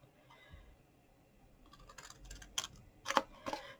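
Scissors snip through creases of a paper pen box, a few sharp, close cuts that grow louder and crisper toward the end after some quiet handling.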